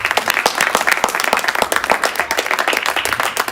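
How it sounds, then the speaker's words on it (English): A keynote audience gives a dense, loud round of applause, many hands clapping steadily throughout with no pause. "Ladies and gentlemen, a real round of applause for,"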